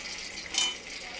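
Mustard seeds, cumin, fenugreek and dried red chillies temper in hot oil, giving a steady close sizzle with a brief louder crackle midway.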